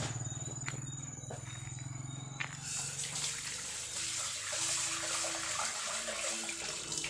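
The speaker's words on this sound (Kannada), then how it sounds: "ಬೇಳೆ ಹಾಕಿಬಿಟ್ಟು ವಾಶ್ ಮಾಡ್ಕೊತೀನಿ." Lentils are rinsed under a running kitchen tap, with water splashing continuously at close range after a brief quieter start.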